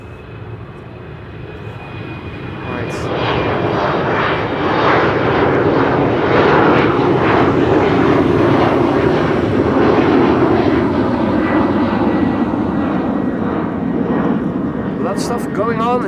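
A MASkargo cargo aircraft arriving at Amsterdam Schiphol builds from a moderate rumble into a loud, sustained engine roar that peaks midway and then eases slightly, with a person talking over it.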